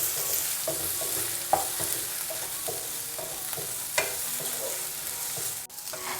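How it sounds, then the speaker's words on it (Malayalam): Okra pieces frying in a pan give off a soft, steady sizzle, with light scrapes and clacks of stirring scattered throughout and a few sharper knocks. "ഇപ്പോൾ നമ്മുടെ വെണ്ടയ്ക്കയെല്ലാം നന്നായിട്ടൊന്ന് ഫ്രൈ ആയി കിട്ടിയിട്ടുണ്ട്"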